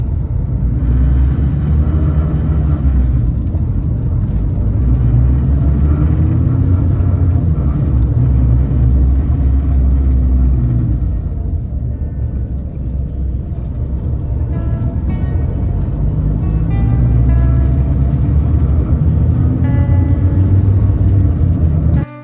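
Inside a Real Expresso intercity bus travelling from Brasília to Arraias, a steady, loud low engine rumble and road drone fill the cabin without a break.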